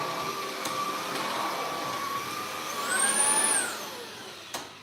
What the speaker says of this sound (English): Just have to vacuum this little pile that I swept up.